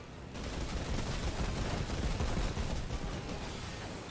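Rapid gunfire in a Fortnite match, with dense, continuous bursts of shots at steady loudness throughout and no talk.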